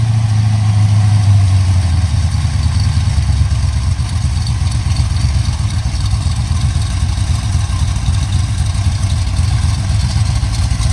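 1970 Pontiac Ram Air 3 stroker V8 running on pump gas idles with a loud, steady, lumpy rumble, close and continuous throughout, with no one talking.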